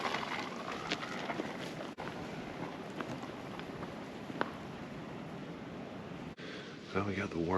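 Heavy wind sweeps across an outdoor hunting property, a steady broadband roar that buffets the microphone throughout, with a brief voice near the end.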